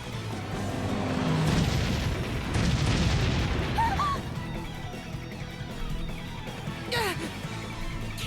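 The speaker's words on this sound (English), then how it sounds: "Cannon fire? This is madness!" Cannon fire in the Bravely Default HD Remaster video game sounds as heavy rumbling booms and crashes under game music, with a sharp burst near the end.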